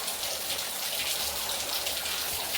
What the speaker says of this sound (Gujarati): હાલ તો વરસાદ ચાલુ છે